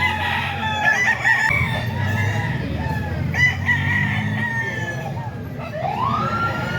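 Roosters crowing repeatedly among fighting cocks at a gamefowl farm in the Philippines, several overlapping calls near and farther off over a dense, noisy outdoor background.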